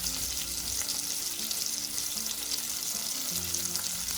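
Shrimp curry sizzles steadily in a hot pan as paprika powder goes in, a constant close frying hiss with faint low tones from the cooktop and no talking.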